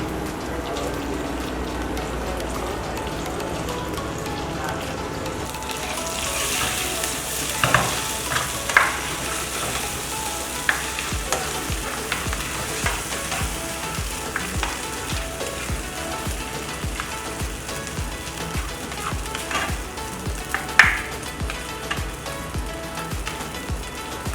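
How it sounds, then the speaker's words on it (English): Snails being stir-fried with pepper sauce in a pan, a steady broadband sizzle with scraping stir strokes and scattered clicks that grow busier after the first few seconds, close and continuous with no talking. "I just stir fry that a bit, and now I'll add my pepper sauce in."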